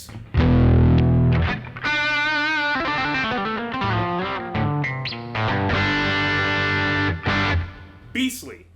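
Distorted electric guitar through a Tech 21 Fly Rig 5 pedal, loud chords and single-note runs with thick sustain, changing pitch every beat or two, played alone with a brief scratchy noise at the close.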